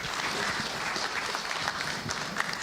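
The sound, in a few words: audience applause for the minister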